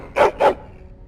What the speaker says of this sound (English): He woke me up with his barking.